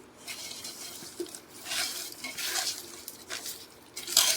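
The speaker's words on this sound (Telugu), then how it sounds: "ఇదంతా బాగా కలుపుకున్నాము." A spoon scrapes and stirs chicken biryani marinade with ghee in a metal pot, giving soft, irregular scraping and clinking close by with no talking.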